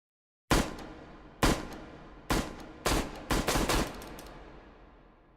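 Gunfire at a shooting range in the VR game H3VR: sharp, loud single shots with fading echoes, then a quick burst of rapid shots close together, heard with no talking.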